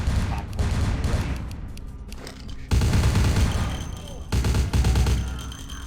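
Bursts of rapid gunfire from the video game Vampire: The Masquerade – Bloodlines crackle in dense volleys, with a short lull before louder renewed firing, close and harsh, with faint talk underneath.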